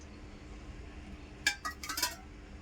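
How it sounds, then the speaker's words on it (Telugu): A pan set down on the stove for boti curry gives a brief cluster of metallic clinks and knocks, four or five quick taps close by over a quiet background hum. "ముందుగా ఒక ప్యాన్ పెట్టుకొని మనము ఆయిల్ వేసుకోవాలి."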